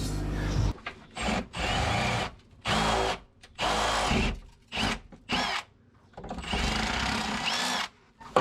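A power drill with a roughly 9 to 9.5 mm bit whirs loudly in repeated bursts of a second or so, stopping and starting as it bores a hole in a car's AC delete plate, with brief pauses between runs.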